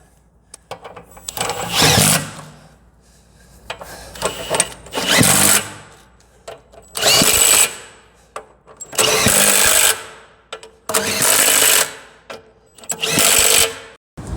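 A power tool tightening bolts on a Challenger 2 tank's track reaction arm runs in six loud, close bursts of about a second and a half each, separated by short quiet pauses.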